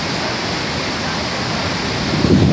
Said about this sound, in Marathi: पूर्ण धबधबा आहे ना, द्रवरूप पकडलं आहे बघा, रुद्ररूप त्याचे खरं म्हणजे.